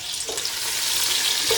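Garlic hits a hot pan for chicken sukka and fries with a loud, steady hiss and crackle, brief pops rising out of the continuous sizzle, close up and with no talk.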